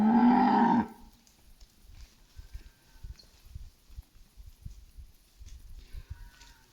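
A single loud, low moo from cattle in the Zambian bushveld during breeding season, where a bull is following cows. The call comes close in the first second, then gives way to quiet outdoor ambience with soft rustles.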